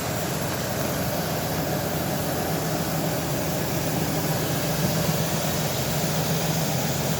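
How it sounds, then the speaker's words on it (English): A Ford E-150 van engine that has sat unused for a long time and needs an oil change runs at a steady idle, a constant low drone close by, with no voices. "You can hear the motor running."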